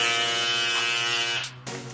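Bevel hair trimmer with a bevel blade running close and loud, a steady high electric buzz with a rich hum that briefly cuts out near the end and then resumes.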